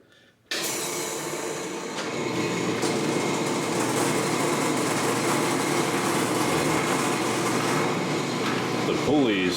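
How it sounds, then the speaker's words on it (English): A metal lathe turns a crank pulley from a 1989 Mercedes-Benz 560SEL at low speed, starting abruptly and then running as a steady, close whirring drone with a faint hum underneath. "I stuck in the lathe just to see kind of what we're dealing with here."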